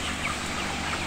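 Broiler chickens, 26 days old, fill a farm house with a dense, continuous murmur of clucking and chirping at steady close range, with no talk over it.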